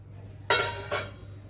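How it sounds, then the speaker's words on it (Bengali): A lid comes off a wok of mango pickle simmering in jaggery, giving two quick metallic scrapes about half a second apart, close and clear over a low background hum. "কড়াইয়ে ঢাকনা খুলছি।"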